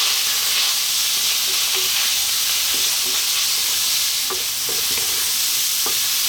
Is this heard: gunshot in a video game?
no